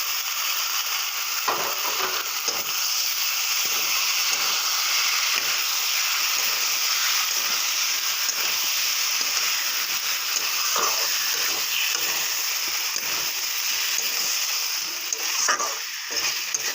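Ground onion, tomato, dried red chilli, cumin and garlic paste frying in a pan for a fish and potato curry, a steady hiss and sizzle with occasional stirring clicks, continuous and close.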